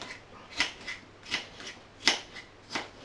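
A knife slices cucumbers into small sections on a cutting surface, producing four or five crisp, close chopping crunches at a steady, unhurried pace with no speech.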